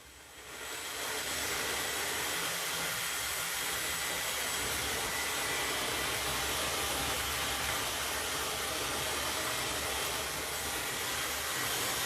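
A hair dryer set to low heat and high speed blows steadily and loudly from start to finish after a brief rise at the opening, a constant close-up whooshing roar used on curly hair.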